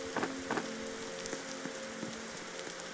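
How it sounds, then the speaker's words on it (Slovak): Rain in the video game 99 Nights in the Forest patters steadily with scattered drop ticks, overlaid by a faint game music tone and a few soft thumps, with no talking. "Prší. A blesky."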